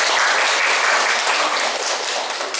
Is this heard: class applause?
yes